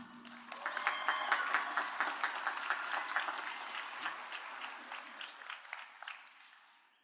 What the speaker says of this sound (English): Please let us have another round of applause for our cohort of doctoral degrees